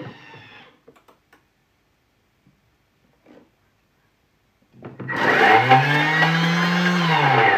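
A Thermomix kitchen machine kicks into turbo on panini dough after a few faint ticks and near silence, its motor surging to a loud, close, steady whir that holds to the end.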